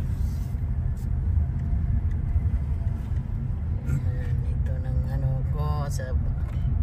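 A new blue hybrid car drives along with a steady low rumble of road and engine noise throughout. A voice speaks briefly partway through.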